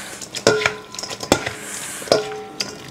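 Spicy sea snail salad with cucumber and green mango tossed in a bowl, giving wet squishing and clinks of utensils against the dish, with several sharp ringing knocks spread unevenly across a close, moderately loud mix.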